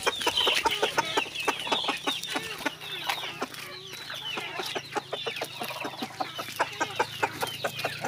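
Farmyard chickens and a rooster cluck eagerly and continuously while waiting to be fed kale, a busy, close chorus of rapid clucks and calls with no talking.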